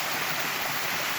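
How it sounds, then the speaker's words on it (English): A small waterfall pours from a living tree stump in Golden Ears Park, making a loud, steady, close hiss of rushing water with no pauses and no voices. "And you have another miracle waterfall coming out of a tree stump."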